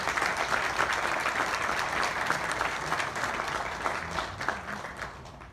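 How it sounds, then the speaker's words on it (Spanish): An audience at a university lecture in Veracruz breaks into applause, with dense, steady clapping throughout and a slight dip toward the end. "para quien también pido un fuerte aplauso, por favor."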